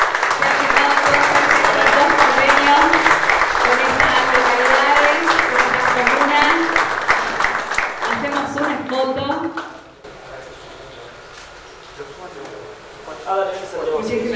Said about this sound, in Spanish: Lo celebramos también con un fuertísimo aplauso.